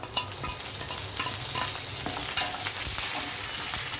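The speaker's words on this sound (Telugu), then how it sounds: "పోపులు కొంచెం వేగుతున్నాయి కదా" Constant crackling sizzle of tempering spices popping in hot oil, dense and close, with no talking.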